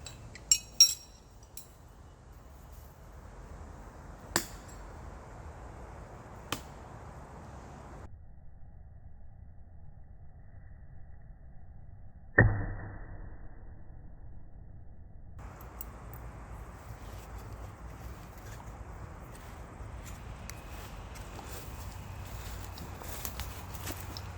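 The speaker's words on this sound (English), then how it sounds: "I love the sound it makes when it hits the wood." A few sharp clicks early on, then one solid thunk of a thrown knife striking wood, over a steady outdoor background hum on a hike.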